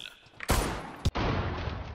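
Gunfire in the online shooter Zula, where a loud sustained burst of automatic fire breaks off for a moment, fires one sharp shot, then resumes as a steady rattling stream.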